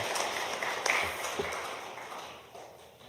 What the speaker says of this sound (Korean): 박수로 격려하시면 좋겠습니다.